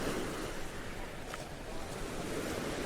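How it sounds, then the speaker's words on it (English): Sea waves wash over a pebble beach at Brighton, a steady close roar of surf and rushing water with wind noise, no voices. "Instead of the waves coming back up and then going back down."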